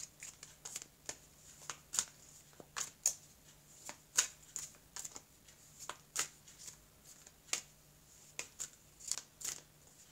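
A deck of oracle cards being shuffled by hand, giving irregular crisp flicks and slaps of card on card at close range, fairly quiet, with no talking.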